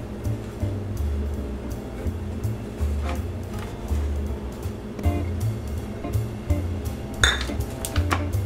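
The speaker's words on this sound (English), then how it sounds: "We're going to start combining our egg and flour." Fork clinking against a bowl while mixing an egg with all-purpose flour, repeated close light taps and scrapes in an irregular rhythm, no talking.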